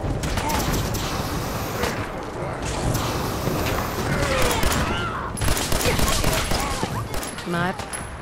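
Rapid bursts of gunfire crackle through a Fallout 4 survival firefight, dense volleys and scattered shots overlapping for several seconds, with game voices and effects mixed underneath.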